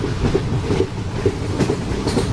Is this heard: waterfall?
no